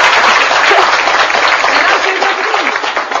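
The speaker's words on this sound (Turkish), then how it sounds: "Alkış yapın da bir kıyamet kopsun şimdi." Applause from a live folk music audience fills the space, a dense, steady wash of clapping that stays loud throughout and eases slightly toward the end.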